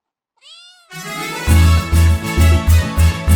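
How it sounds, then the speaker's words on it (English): Several clear cat meows, high-pitched and close, arriving in quick succession over a steady musical backing in a children's alphabet learning song. "C for cat"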